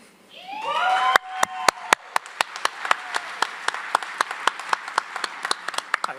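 A graduation audience claps and cheers, rising from a burst of voices into sharp, widely spaced claps that keep a loose steady rhythm, with a shrill whistle or cheer over the first moments.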